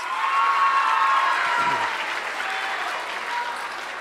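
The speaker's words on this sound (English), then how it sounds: "I'll let you clap and cheer for each individual people" Steady audience applause with some cheering fills a school auditorium at a junior high awards ceremony, a dense crowd clapping throughout with a brief voice partway in.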